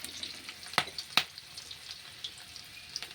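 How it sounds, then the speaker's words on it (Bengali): Chopped garlic, bay leaves and whole garam masala spices sizzle quietly in oil, a soft crackle broken by a few sharp pops and stirring taps. "দিয়ে দিলাম তেল, দিচ্ছি তেজপাতা, গোটা গরম মশলা, রসুন কুচি, ভালো করে ভেজে নিব।"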